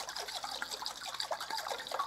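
Tomato seeds shaken in disinfecting liquid inside a closed container give a steady, close sloshing and trickling with small splashy pulses, heard alone.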